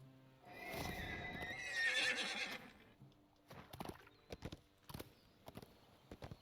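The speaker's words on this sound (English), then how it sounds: "Let's hop on the horse and check for brine." A horse in Dungeons & Dragons Online lets out a loud whinny, then its hooves clop in an uneven run of distinct hits that carry on to the end.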